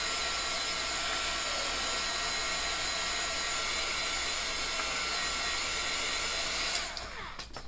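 A hair dryer blows with a steady, close, high whine while drying chalk paste on a Dollar Tree craft surface, with a few light knocks as it ends. No voices are heard.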